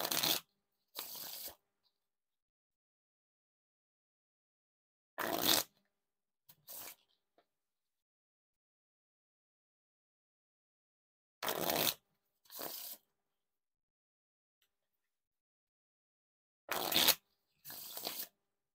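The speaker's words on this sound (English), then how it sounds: "All the Riffle Shuffles and Bridge Shuffles feel pretty smooth when you get them to actually work" Bicycle playing cards are riffle shuffled in short crisp bursts, each a rapid fluttering rattle followed by a softer bridge, repeated four times with quiet pauses between.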